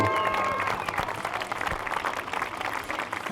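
Spectators clap and cheer as runners cross the finish of a half marathon in Vittorio Veneto, a lively crowd applause sustained throughout with scattered louder claps up close.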